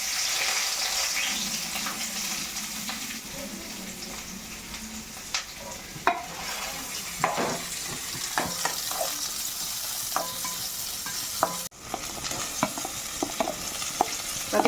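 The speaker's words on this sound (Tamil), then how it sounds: "சாம்பாருக்கு தான் தாளிச்சிட்டு இருக்கிறேன், வதக்கிட்டு இருக்கிறேன்." Spices tempering and vegetables sautéing in a pan for sambar make a continuous hiss and crackle, with irregular spoon scrapes and taps against the pan throughout, nearby and steady.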